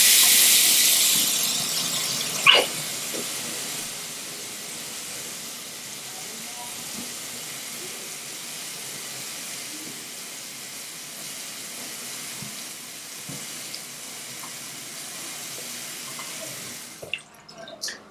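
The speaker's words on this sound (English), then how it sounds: "Hot water." Hot water running steadily from a tap into a sink, a continuous close hiss with a few faint clinks and a brief knock near the end.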